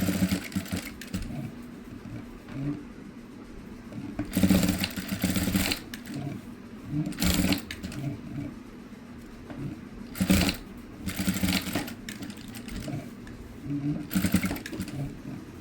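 Sewing machine stitching a cutwork blouse, a steady low motor hum with several louder bursts of fast stitching, close by and fairly quiet.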